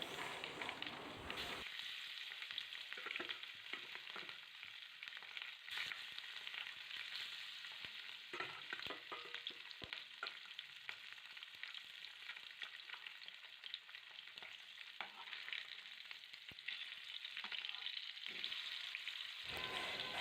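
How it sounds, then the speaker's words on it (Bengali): Fish sizzle and crackle in hot mustard oil in a pan, a steady close frying hiss with occasional sharper pops and stirring, no talking over it. "তেলটা গরম হয়ে গেলে পর মাছগুলো দিয়ে ভেজে নেব।"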